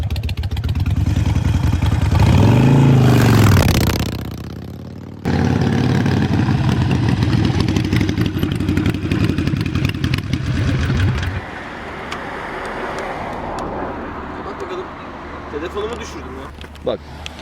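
A Harley-Davidson Sportster 883 motorcycle engine runs with a loud, deep rumble, rising sharply at first and then settling into a steadier idle while a person talks over it.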